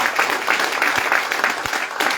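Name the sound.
audience applause for branch manager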